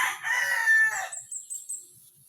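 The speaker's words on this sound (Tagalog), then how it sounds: "pag makarinig ito ng tilaok ng pangati mo ay lalapit agad" A rooster crows once, nearby and clear, its drawn-out call followed by a few soft, faint clucks in otherwise quiet surroundings.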